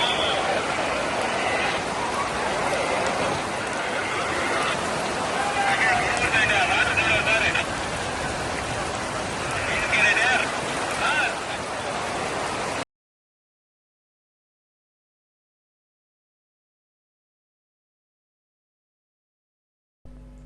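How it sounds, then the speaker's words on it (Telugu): Rain falls on roads at Tirumala in a steady hiss of drops hitting wet pavement, with a voice speaking over it, before the sound cuts to silence partway through. "మండు వేసవిలో ఒక్కసారిగా వర్షం కురవడంతో భక్తులు సేదతీరారు"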